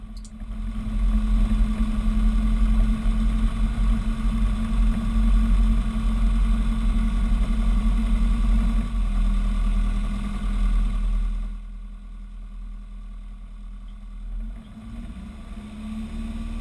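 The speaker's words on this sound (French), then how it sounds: "le moteur prend 2300 tours, on poursuit le décollage" A light aircraft's piston engine running as it lines up on runway 33 for takeoff, a loud steady droning hum with cockpit rumble that drops to a lower idle-like level near the end.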